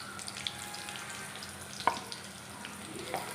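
Beef pieces coated in masala fried in hot oil for a restaurant-style dry fry, giving a faint, steady sizzle with a few brief crackles and pops, with no talk over it.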